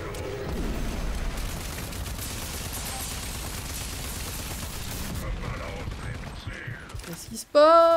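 Explosions and rapid gunfire from the video game Rage 2 roar continuously and loudly, a dense burst of blasts that thins out, then ends in a sudden harsh glitchy tone.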